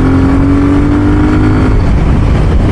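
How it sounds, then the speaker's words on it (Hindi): A BSA Gold Star 650 motorcycle with a twin parallel engine and dual exhaust revs loudly up close, its engine note holding steady and then shifting into a rougher, throbbing roar. "इसमें ट्विन पैरेलल इंजन है, ड्यूल एग्जॉस्ट है, उसमें फ्यूल अच्छे से बर्न आउट होता है और साउंड GT की बहुत प्यारी आती है"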